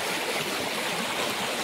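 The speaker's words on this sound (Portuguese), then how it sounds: "Volume bem baixo. Água poluída." Low, polluted river water flows at a dike entrance on the Rio Pavuna, a steady broadband rushing wash with no voices.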